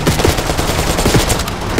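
Rapid gunfire rattles continuously and loudly in Call of Duty: Black Ops 6, a dense automatic burst of shots that fills the whole moment without any talking.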